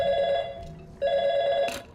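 An electronic telephone rings in the video game Portal 2, two clear tonal ring bursts separated by a short gap, followed by a brief click, fairly loud and alone.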